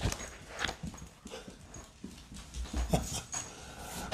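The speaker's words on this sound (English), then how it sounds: "We got puppies coming through." Puppies pass by close up, with soft patters, scuffles and a faint whimper over a steady background hum, brief and moderately loud.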